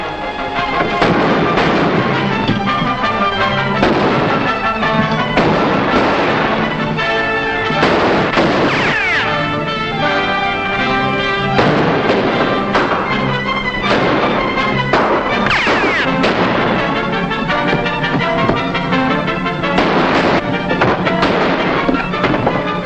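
Rapid gunfire from a western movie shootout, with dense repeated shots and bangs cracking over a continuous loud soundtrack of orchestral music and action noise.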